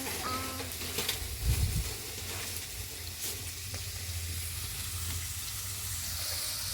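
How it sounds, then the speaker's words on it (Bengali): Red amaranth greens fry in a pan over a wood fire, a soft, steady sizzle with a few stirring knocks near the start, heard faintly and alone. "একটু ভেজে নিচ্ছি বন্ধুরা"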